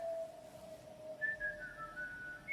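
A person whistles a wavering melodic tune, alone and fairly faint, with sustained pitched notes that slide and step between phrases against a quiet background.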